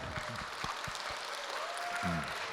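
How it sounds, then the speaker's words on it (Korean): A church congregation applauds, a steady wash of clapping with a few voices and a brief murmur of talk mixed in. "자 박수"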